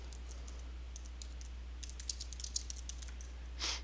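Computer mouse clicks during photo editing: a quiet scatter of short, sharp clicks in an otherwise hushed room, ending with a slightly louder, fuller click-rattle, with no voices.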